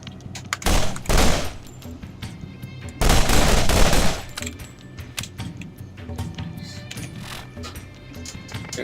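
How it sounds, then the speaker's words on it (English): Machine pistol built like a repeater firing in Borderlands, two loud rapid bursts of automatic gunfire, one brief and one longer, followed by quieter scattered shots and game ambience. "It's a machine pistol"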